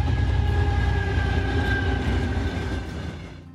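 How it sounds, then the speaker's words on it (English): Trains in Switzerland pass beneath a bridge with a steady, loud rail rumble and faint clatter of cars, fading slightly toward the end with no voices. "trains passing underneath"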